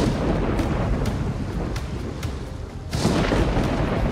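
Deep rolling thunder rumbles through a stormy night in the video game DayZ on the Namalsk map, with a sustained low roar and a louder crack-like swell near the end, no voices.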